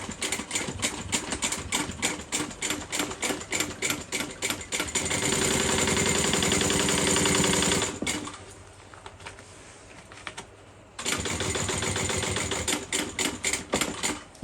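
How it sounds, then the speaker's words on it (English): A sewing machine stitching a bag, rapid rhythmic needle clatter running in bursts, with a steadier whirring stretch, a pause of quiet handling, then another sustained run, close and loud. "I'm going to try and sew it like this, see what happens."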